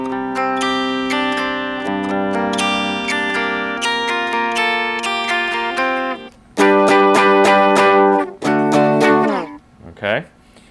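A Les Paul electric guitar played through an Axe-FX modelling an AC30 amp with a Brit cab rings out in a series of strummed, sustained chords, loud and bright, ending with a few short picked notes and a brief slide.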